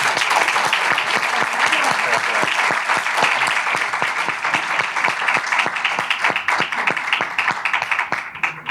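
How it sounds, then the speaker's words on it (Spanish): An audience in a lecture hall gives sustained applause, dense clapping from many hands filling the room steadily and fairly loud, with a few brief voices mixed in. "Pido un aplauso para ellos."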